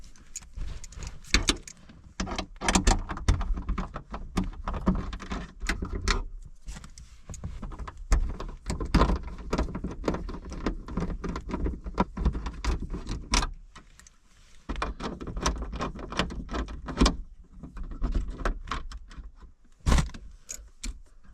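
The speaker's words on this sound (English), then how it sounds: "unplug the connector going to the wiper blade motor and then unbolt 3 10mm bolts" A ratchet and socket loosening three 10mm bolts on the rear wiper motor of a Honda Fit GK5, close-up rapid clicking bursts with metallic taps and short pauses between them.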